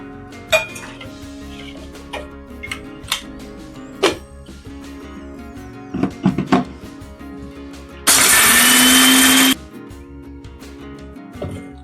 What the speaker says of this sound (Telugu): ఇవి పల్లీలు పట్టాలి.